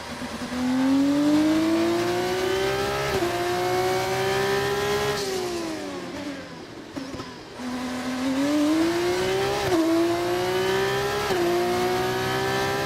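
Race car engine in a racing video game, loud and continuous as it revs up through the gears, with a brief dip and drop in pitch around the middle before climbing again, alone without talk.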